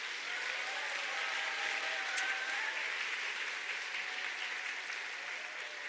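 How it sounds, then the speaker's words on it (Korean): An audience at an Atomy company event applauds to welcome its Russian members, a steady, even wash of many hands clapping throughout, moderately distant and fairly quiet, with no voices over it. "러시아 회원들을 위해서 큰 박수로 환영합시다."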